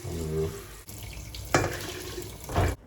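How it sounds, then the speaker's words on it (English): A kitchen tap runs water into a cooking pot of onions and beef for Moroccan couscous, a steady close rush of water with a couple of splashy surges. "I'm gonna add some water to that."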